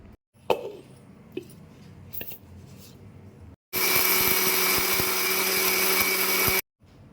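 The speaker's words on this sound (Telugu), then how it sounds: "మిక్సీ జార్లోకి ట్రాన్స్ఫర్ చేసుకుని మిక్సీ చేసుకుంటున్నాను ఫైన్ పౌడర్గా చేసుకుంటున్నాను" Dried millets and assorted seeds are ground to fine powder in a kitchen mixer grinder, which roars loudly and steadily for about three seconds before stopping abruptly, after a few faint clicks and handling knocks.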